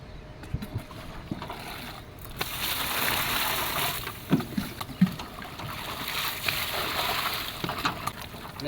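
A boat moves on pond water while mineral salt mix is stirred into it, giving steady soft sloshing and swishing with a few small splashes and knocks, fairly faint and continuous.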